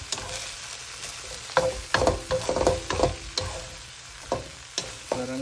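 Broccoli sizzles and crackles as it is stir-fried in a pan, a steady frying hiss with irregular scraping stirs and clatters close by, no voices.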